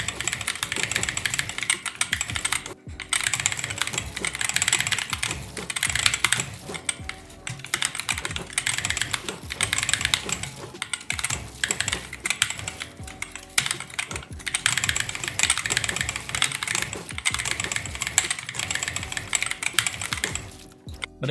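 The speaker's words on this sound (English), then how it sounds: "it's the GK61 with optical yellow switches" Fast, steady clacking of a GK61 keyboard with optical yellow switches, typed nonstop up close for about twenty seconds over a faint low hum, with only a brief pause near the start.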